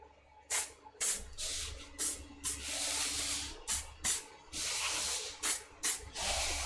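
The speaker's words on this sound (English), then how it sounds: "So I do 3 coats of clear coat, really light coats," Aerosol clear coat sprayed in light coats onto a 737 home cockpit sim part, about a dozen short hissing bursts of varying length with brief pauses between, close and alone.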